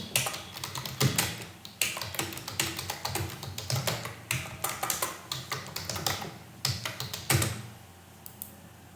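Keys on a computer keyboard are struck in quick irregular bursts of crisp clicks and taps, close and fairly loud, with brief pauses between runs and no voices.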